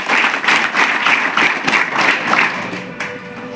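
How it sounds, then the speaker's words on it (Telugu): A student audience applauding together, a dense, loud wash of many hands clapping in near-unison with a steady pulsing rhythm that thins out toward the end. "చప్పట్లు కూడా లయబద్ధంగా ఉన్నాయి"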